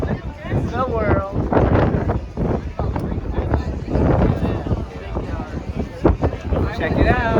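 Strong wind sweeps across the deck of the cruise ship Wonder of the Seas as it sails from Fort Lauderdale, loud gusty microphone buffeting rising and falling while a person talks over it.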